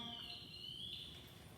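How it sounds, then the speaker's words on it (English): A firefighter's motion alarm emits a steady high-pitched electronic tone throughout, a continuous alarm beep over low background rumble. "that beeping sound you just heard there is an alarm."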